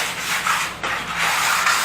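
400-grit sandpaper rubs briskly over the edge of a wooden miter spline jig in quick, steady back-and-forth strokes, close up with no other sound.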